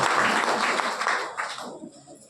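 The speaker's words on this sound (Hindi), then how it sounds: "जोरदार तालियां" A crowd at a meeting in Lakhisarai applauds loudly, a dense wash of clapping that gradually thins and fades toward the end.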